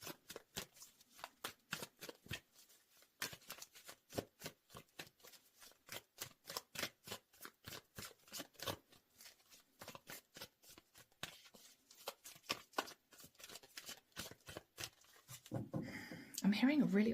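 Rapid riffling of playing cards, repeated in quick bursts for many seconds, with a brief louder rustle near the end.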